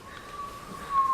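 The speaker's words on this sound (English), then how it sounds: "I could hear the whistling of the wind." Wind whistles steadily as a hurricane approaches, a thin sustained tone running throughout and swelling louder toward the end, with no talking over it.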